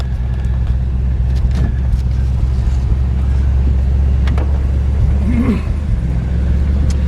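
A 1970 Dodge Coronet with a 440 engine idles steadily, a loud continuous low rumble throughout with a few faint clicks and a brief rising whine near the end.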